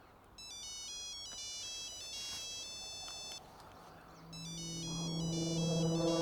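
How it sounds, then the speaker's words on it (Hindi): A mobile phone ringtone plays a repeating electronic melody of bright beeping tones, stopping briefly and starting again while a low tonal music bed rises beneath it in a Hindi action film scene. "मालिक का फोन है,"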